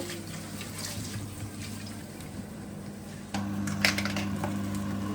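Rice being washed in a sink as part of a Goan prawn curry: running water and soft sloshing continue steadily, with a few light clinks and splashes, close and moderately quiet.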